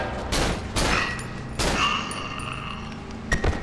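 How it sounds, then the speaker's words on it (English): Gunshots aimed at a crawler enemy in the horror game Cry of Fear, set at a creepy construction site: a few loud, spaced single shots ring out, the last one arriving after a longer pause. "I'm just gonna shoot you."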